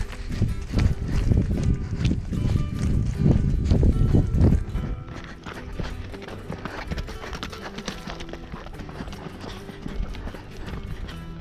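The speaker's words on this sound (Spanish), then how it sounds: "Corre, burro." A donkey runs along a rural path in Santiago de Chocorvos, Huancavelica, its hooves clip-clopping in a quick, uneven patter that is loud for the first few seconds, then continues fainter and more distant, with faint background sounds.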